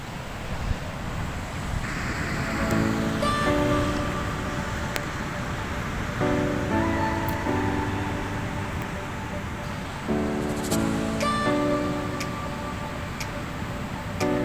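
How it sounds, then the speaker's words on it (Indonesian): Ocean waves at Batu Hiu beach in Pangandaran wash in a steady broad roar with wind buffeting the microphone, while scattered ticking and faint tonal sounds rise and fall over it, with no voices. "Dan inilah suasana laut"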